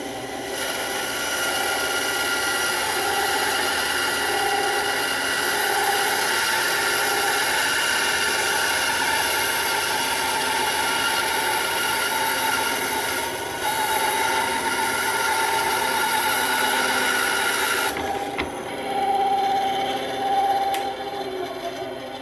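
Bandsaw cutting a piece of wood, producing a steady, fairly loud mechanical hum and whir that runs continuously, with a slight change in tone near the end as the cut finishes.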